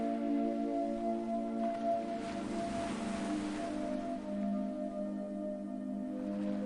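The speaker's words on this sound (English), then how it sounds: "you can hear the distant, muffled sound of the waves outside" Distant, muffled ocean waves swell softly into one broad wash and then fade, faint beneath a sustained, calm musical drone.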